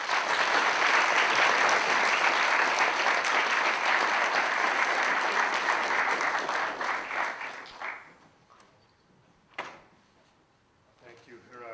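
Lecture hall audience at Boston College clapping warmly to welcome a speaker, dense sustained applause for several seconds that thins and fades out, followed by a few faint thumps and shuffles.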